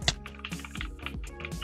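Rapid jitter clicking on a computer mouse during a Minecraft Java Edition PvP fight, a dense run of sharp, close plastic clicks in quick irregular bursts, with no talking.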